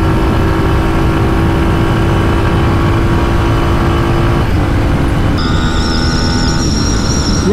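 Yamaha MT15 V2 and Royal Enfield Hunter 350 motorcycles in a top-end race, their engines a steady loud drone that shifts to a higher, tonal whine partway through.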